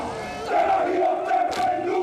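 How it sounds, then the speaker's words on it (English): Crowd of supporters cheering and shouting at a kapa haka performance, a dense sustained roar that swells after a moment and stays loud throughout. "Supporters were out in droves today to cheer on their whānau."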